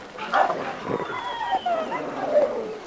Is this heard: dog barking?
yes